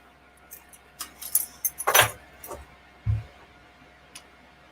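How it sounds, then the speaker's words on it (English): A bunch of BMW car keys, E60 and 130i style, jangles and clinks close by in a few irregular bursts, the metal rattling loudest mid-way before a last soft clink. "Show me all your BMW keys."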